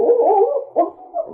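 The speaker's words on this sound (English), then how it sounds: "Barking at the rowboat." A dog barks excitedly at a rowboat near a dock in an old radio drama, giving a few loud, close, yelping barks in quick succession with short pauses between them.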